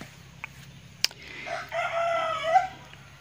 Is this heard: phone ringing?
no